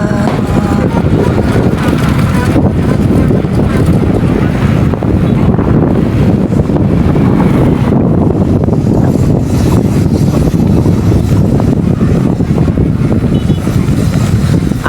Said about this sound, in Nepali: हावाहुरी पनि स्टार्ट हुन लागेको